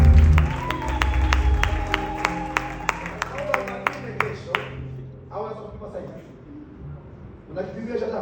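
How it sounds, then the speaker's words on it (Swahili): A church congregation claps hands for Jesus during a healing service, steady clapping that fades after a few seconds and then gives way to a murmur and a short burst of voices. "Piga Yesu makofi kama hiyo."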